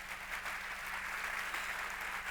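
Conference crowd at an environmental education opening ceremony applauds in thanks, a faint, even, continuous patter of many hands heard from a distance with no voices on top.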